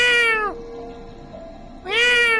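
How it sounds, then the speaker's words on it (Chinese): A cat on a neighbouring rooftop lets out two clear, drawn-out meows separated by a quiet pause, both loud and close, with no talk. "听着猫叫声，我心头一紧。"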